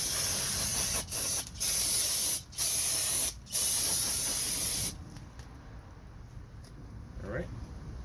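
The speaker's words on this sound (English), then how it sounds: "This is just a regular brake cleaner. I want to get that PB blast off." A can of ordinary brake cleaner sprays onto a Toyota Venza's front brakes. It comes as loud, close, sustained hissing bursts broken by brief pauses, then stops, and a quieter stretch with faint handling noise follows.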